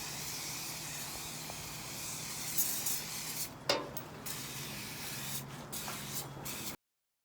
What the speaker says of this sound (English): I wanted to get the most bang for my buck with this can of Apple Guard spray